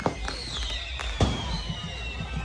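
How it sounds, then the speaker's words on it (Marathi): Firecrackers go off at a festival immersion procession for a village deity, with sharp bangs and a whistling rocket rising above a crowd murmur and a low background din. "फटाके काय संपत नाही, फटाके चालूच आहेत"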